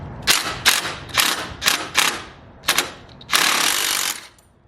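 A power tool, likely an impact wrench, removing floorboard bolts on a Harley Road Glide Special motorcycle: several short, loud rattling bursts in quick succession, then a longer final burst, close up with no talk.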